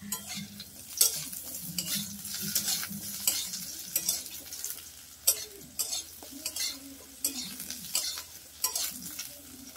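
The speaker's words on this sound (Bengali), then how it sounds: "আমাদের আলুটাও ভাজা হয়ে গেছে" Steady sizzling of potatoes frying in a pan, with stirring scrapes and clinks recurring throughout, close and fairly loud, no voices.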